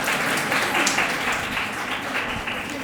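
An audience at a Teachers' Day honouring ceremony at a school applauds a teacher, a short burst of steady, fairly loud clapping from many hands lasting the whole moment.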